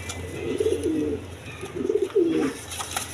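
Lotan pigeons brought from a farm coo close by: two soft, throaty, rolling coo phrases with a short gap between them over faint background noise.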